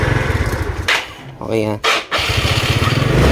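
Yamaha Mio 115 scooter with hard-starting and no-idle trouble, its small engine running in a steady close putter, briefly dipping and surging before settling back to idle, with a short spoken word over it.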